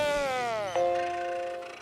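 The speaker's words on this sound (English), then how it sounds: "here's the sound effect from Spot Returns." Karen the computer's reboot chime from the SpongeBob episode Spot Returns, modeled on the classic Apple Macintosh startup sound: a bright, sustained electronic tone that glides downward, then settles into a steady ringing note that fades out.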